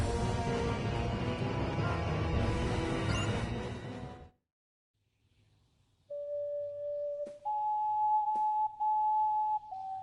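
After a loud noisy burst cuts to near silence, a few pure, flute-like ocarina notes from the video game Star Ocean: The Last Hope play alone, sustained and clear, stepping upward.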